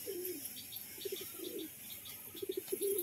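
Domestic pigeons in a loft cage coo softly in short repeated bursts, with brief chirpy notes mixed in, close and fairly quiet, no voices.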